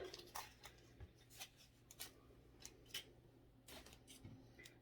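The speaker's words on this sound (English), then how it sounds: "I'm going to cut the tags off." Scissors snip the tags off small mini gloves in a quiet room, a series of short, crisp cuts spaced irregularly, faint and close with a low hum underneath and no talking.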